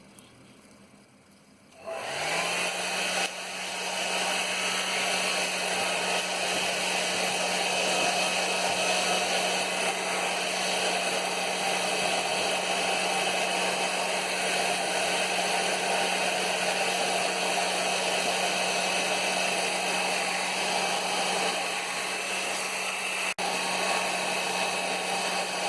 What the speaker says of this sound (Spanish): Lo secamos con el secador